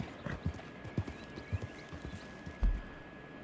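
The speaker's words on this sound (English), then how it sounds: "Let's get on the horse." Hooves clip-clop in a quick galloping rhythm as a horse runs in the video game Red Dead Redemption 2. The hoofbeats sound soft and moderately close, with a louder thud near the end.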